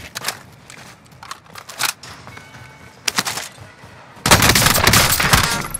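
Incoming gunfire in Call of Duty Modern Warfare snaps in scattered nearby shots and bursts, then swells into a dense, loud sustained barrage toward the end.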